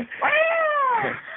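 A cat gives a single drawn-out meow, close and clear, lasting about a second.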